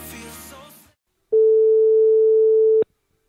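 A telephone call tone placed while ringing a person named Gabin: one long, loud, steady electronic beep sounding alone after a brief stretch of muffled voices fades out.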